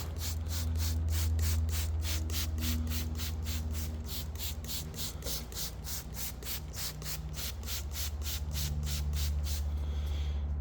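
Continuous hissing spray of ceramic coating onto a car, with a rhythmic rubbing or pumping pulse, steady and close, over a low droning hum; no talking.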